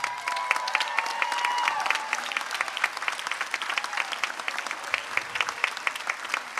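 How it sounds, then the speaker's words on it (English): Graduation audience at a high school ceremony applauding steadily, a dense wash of many hands clapping that fills the hall throughout, with a few brief tonal sounds near the start. "give him a round of applause"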